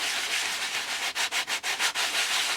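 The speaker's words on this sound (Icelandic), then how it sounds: "notar maður sandpappír" Sandpaper rubs over a glued wooden wing joint in quick back-and-forth strokes, close and steady, with a run of short rhythmic passes in the middle and no talk.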